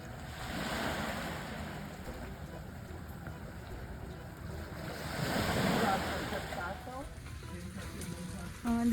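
Mediterranean Sea waves wash along the Amalfi coast near Sorrento, a broad rushing surf with wind buffeting the microphone, swelling midway while voices talk over it.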